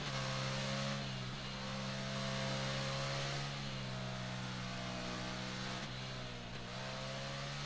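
Ducati Monster 696 (2014) naked motorcycle engine in the Ride 3 racing game, a steady mid-pitched drone with sustained harmonics and slight rev shifts, continuous and close throughout with no talk.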